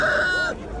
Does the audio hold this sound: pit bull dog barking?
no